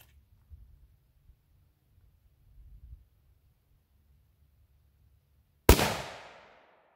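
A single loud, sharp report from a .30-06 rifle firing 165-grain Hornady CX ammunition over a chronograph, ringing off in a long decaying tail after several seconds of quiet low rumble.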